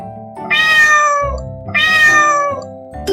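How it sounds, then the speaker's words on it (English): A cat meows twice, clear and close, each a drawn-out plaintive call, with a soft musical tone underneath. "It's a cat."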